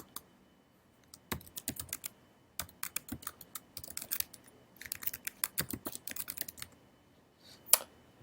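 Bursts of typing on a computer keyboard while entering Linux terminal commands to set up VirtualBox shared folders, quick irregular clicks in clusters with short pauses, close and fairly quiet, no talking.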